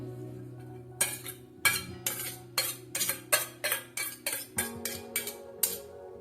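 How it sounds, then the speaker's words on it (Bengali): Eggs beaten with a utensil in a bowl, with onion, green chilli and coriander added, about a dozen sharp rhythmic clinking strokes close by over a steady low hum, no voices. "ডিমটা ভালো করে ফেটিয়ে নেব।"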